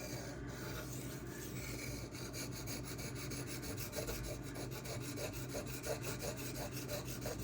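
ZDP-189 and MagnaCut steel knife blades are stroked across a Suehiro Debado whetstone in a quick, even run of rasping scrapes, close and fairly quiet, with no talking.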